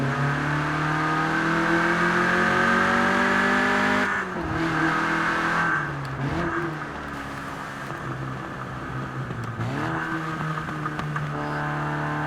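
A Peugeot 205 Rallye engine in Forza Horizon 4 drones and revs loudly, pitch rising and dipping through gear shifts, a continuous mechanical roar with no talking.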